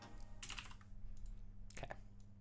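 Soft typing on a computer keyboard comes in two short bursts of quick keystrokes over a low, steady background hum, fairly faint and close.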